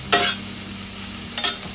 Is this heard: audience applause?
no